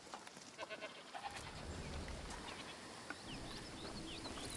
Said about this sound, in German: Ach komm, das ist eine Ziege